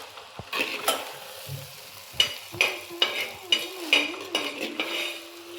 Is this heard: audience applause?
no